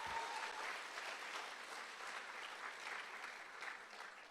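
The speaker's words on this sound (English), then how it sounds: "It truly and wholeheartedly deserves your applause." Audience applause at a product presentation for a countertop water purifier, continuous even clapping from a sizable crowd, distant and fairly faint, holding steady throughout.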